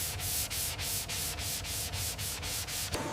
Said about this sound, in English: Fine sanding levels the primer, achieving a perfectly smooth foundation.